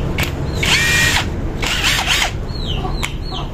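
A cordless impact wrench whirs in short bursts, two sustained runs followed by quick chattering blips, loud and close with a little background noise and no speech.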